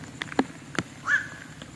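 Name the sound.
crows cawing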